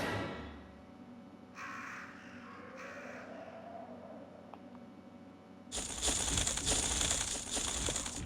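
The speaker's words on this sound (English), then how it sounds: "Sometimes you're just pecked to death by crows." Crows caw in the Resident Evil Director's Cut game: a few short calls rise over a low ambient drone early on, then a sudden loud, dense burst of harsh squawking and flapping fills the last few seconds.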